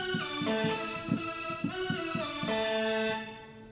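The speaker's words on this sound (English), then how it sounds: "I've got another big trance lead that we can add to that" Big trance lead synth from Omnisphere for a worship keyboard part: a bright, buzzy sustained tone with rhythmic stabbing notes underneath, steady and fairly loud, with no voices.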